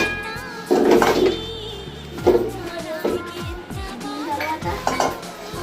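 A mixing bowl and utensils clinking while puffed rice is mixed, bright close knocks and rattles coming in a few short bursts.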